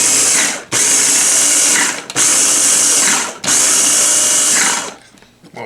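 A small food processor pulses a horseradish mixture in three loud whirring bursts, each about a second and a half long, separated by brief pauses, ending in quieter clatter.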